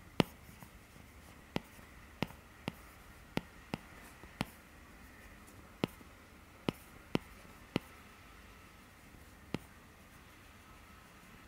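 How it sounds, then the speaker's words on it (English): An Apple Pencil Pro draws on the nano-texture glass of an iPad Pro, giving faint, close scratchy strokes punctuated by a dozen or so sharp, irregular tip taps against the matte screen. "The Apple Pencil Pro is definitely quite smooth on the nano texture glass"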